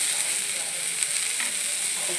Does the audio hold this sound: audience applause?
no